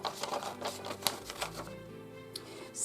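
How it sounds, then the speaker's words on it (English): Scissors snip through a paper apron pattern in a series of quick, close, dry clicks, irregularly spaced across a few seconds in a quiet room. "So I'm going to trim a little bit of this off right here."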